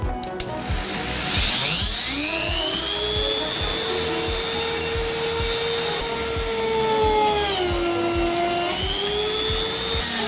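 An electric drill bores into a wooden key holder blank with a loud, sustained whine that dips in pitch as the bit bites into the wood, the drill bit dulled and burning the wood.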